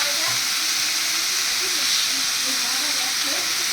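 Spice paste and tomato sizzle in a hot pan, a steady, loud hiss of frying that runs without a break.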